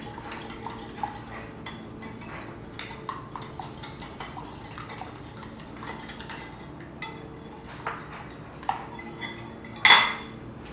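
A whisk rattles against a bowl, mixing seasoning mix with minced garlic in quick, uneven metallic clicks and scrapes, ending in one sharper clatter near the close.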